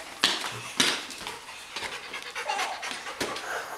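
A dog panting close by, quick rhythmic breaths, loud and steady, with a couple of sharper bursts near the start and no speech over it.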